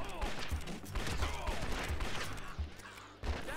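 Rapid revolver gunshots ring out in the Red Dead Revolver video game, a dense burst of loud, close sharp cracks in quick rhythm over busy game sound, with a brief lull near the end before another shot.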